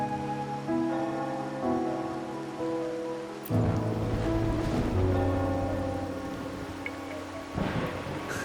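Rain falling in the video game Wuthering Waves, a steady soft patter on surfaces heard under sustained music tones, with the wash of drops swelling slightly midway through.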